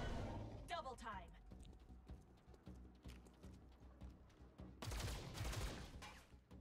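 A Deadeye gunshot in the video game XCOM: Chimera Squad lands as a rapid burst of sharp cracks late in the passage, with someone talking over quiet game sounds before it.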